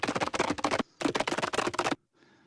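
Sampled horse gallop triggered on a Vogel CMI Fairlight simulator for iPad: two quick bursts of rhythmic hoof clatter, each a run of sharp close thuds, separated by a brief gap and ending in faint noise.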